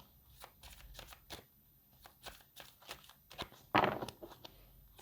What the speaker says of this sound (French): Vous ne voyez pas quand je mélange les cartes.